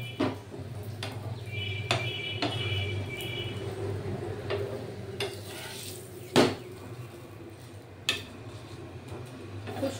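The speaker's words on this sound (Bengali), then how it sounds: "খুব সুন্দর করে কড়া করে ভেজে নেবেন এরকম ভাবে" A sattu paratha fries crisp in a pan in a home kitchen, giving a low, steady sizzle. Scattered metallic clinks and scrapes of a spatula against the pan sound close by, with no talking.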